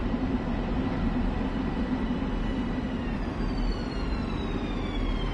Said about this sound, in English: We've got another train coming up behind us.